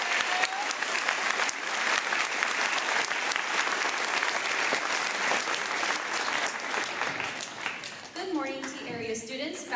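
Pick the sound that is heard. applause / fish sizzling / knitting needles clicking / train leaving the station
applause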